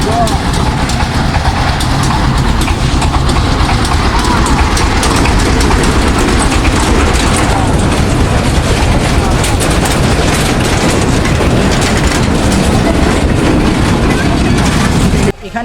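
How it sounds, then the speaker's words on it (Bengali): An amusement park train rolls through at close range with a loud, continuous rumble and rattling clatter that holds steady for about fifteen seconds, with faint voices mixed in. "ট্রেন আসতেছে ভাই"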